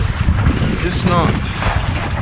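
Strong wind buffets a boat at sea, a loud continuous roar of gusts across the microphone, with faint sounds of the vessel beneath.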